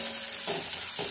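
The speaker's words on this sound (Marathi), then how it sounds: "इथे मी गॅस थोडा फुल करते आणि मस्तपैकी असं फ्राय करून घेणार आहोत" Upma ingredients fry in a pan over a high gas flame: a brief, continuous hissing sizzle with a couple of soft stirring pulses.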